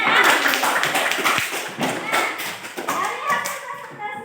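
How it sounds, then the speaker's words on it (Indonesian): Applause in an Indonesian school classroom for a student: a dense patter of many small hands clapping continuously at close range, with children's voices mixed in throughout. "Kasih dulu tepuk tangan untuk Reski."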